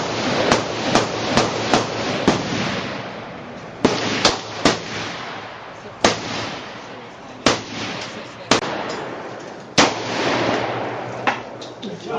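Sharp rifle shots from Accuracy International sniper rifles ring out at irregular intervals on an outdoor range, a dozen or so sharp cracks with short decaying tails.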